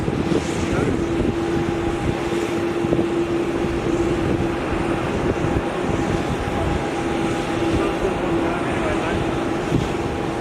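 A plane at Melbourne Airport's Terminal 4, heard close up, gives a loud, continuous engine roar with a steady whine that holds from start to finish.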